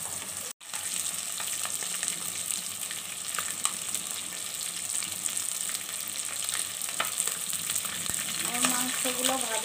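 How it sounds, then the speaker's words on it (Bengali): Chicken pieces fry in a pan for a chicken tikka masala, a continuous close sizzle and crackle of hot oil with scattered spits and a few stirring scrapes. "মাংসগুলো ভেজে নেই।"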